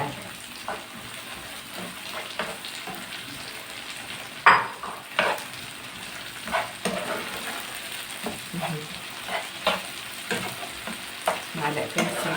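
A spoon scrapes and stirs tomato paste frying in a pan for Yemeni-style shakshuka, with repeated soft clinks and scrapes over a low steady sizzle.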